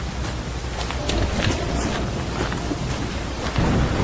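Heavy rain during the rainy season in Nigeria's Niger Delta, a dense steady wash of rainfall with low rumbling that suggests thunder, loud and close throughout with no voices.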